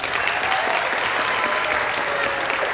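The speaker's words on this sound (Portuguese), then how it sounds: "Palmas para o Theo." Loud, steady applause from an audience at a festive public event, many hands clapping together in a dense, continuous burst for a child named Theo, close and strong throughout.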